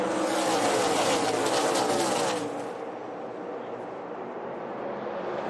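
NASCAR Xfinity race cars roar as they accelerate in a pack on a restart at Kansas, a loud, dense engine blare for about two seconds that then drops to a lower, steadier drone.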